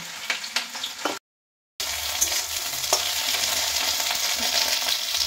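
Okra sizzles loudly in a pan and scrapes under a spoon as it is stirred, with a brief silent gap before the hiss returns, fuller and steady.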